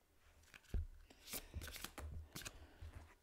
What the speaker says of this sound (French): après je vais mettre d'autres cartes là-dessus